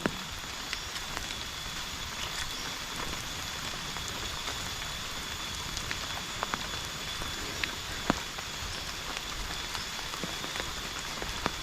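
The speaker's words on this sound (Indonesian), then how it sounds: "saat hujan ya, di siang hari" Steady rain pours in the Sundanese countryside by day, near rice fields and an old cemetery in Kampung Pusaka Mukti, Cineam; a dense continuous hiss with scattered sharper drops tapping surfaces, no voices.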